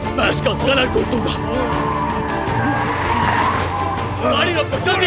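Tires squeal and skid as a car is forced to a stop, a drawn-out screech beneath urgent shouting voices and engine noise.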